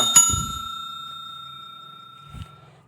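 A single bright notification bell ding rings out near the start and decays with a long tail, with a few faint soft thumps underneath and no talk.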